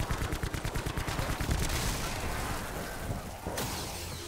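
Rapid automatic gunfire from the Voyage of Despair video game, a fast rhythmic burst of shots for the first second and a half, then a dense roaring clatter of game noise.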